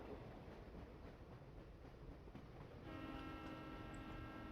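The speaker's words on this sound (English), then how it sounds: "Oh, that's the train." Train in the Professor Layton and the Diabolical Box video game: a faint rolling rumble of a moving train, then a sustained horn-like tone joining in for the last couple of seconds.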